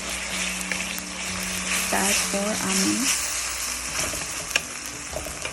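Ginger garlic paste frying with browned onions in a pan for chicken korma, a steady close sizzle running throughout while someone briefly speaks over it.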